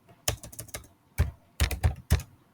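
Java code being typed on a computer keyboard: several quick clusters of crisp, close keystrokes separated by short pauses, with no talking.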